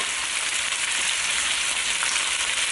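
Two eggs frying in a pan for pad see ew, a stir-fried noodle dish with black soy sauce, giving a close, even sizzle that never lets up.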